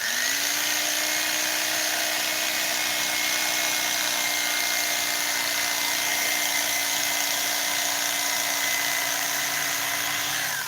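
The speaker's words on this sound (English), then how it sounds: "I got a little grinder on a wheel, you can cut it out" A small wheel grinder whines steadily and continuously at close range, cutting through seat cover material in a sustained high-pitched drone with no talk.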